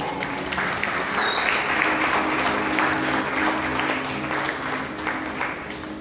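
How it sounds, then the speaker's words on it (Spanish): A church congregation applauds steadily, a dense, even wash of clapping from many hands that holds for several seconds and tapers slightly near the end. "¿Has tenido un fuerte aplauso a nuestro Señor?"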